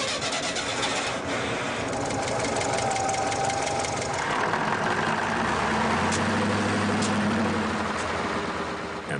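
A Kamaz truck engine in the Tajikistan mountains turns over and catches after a jump-start, a loud continuous knocking diesel rumble that settles into a steady heavy running note, with no voices.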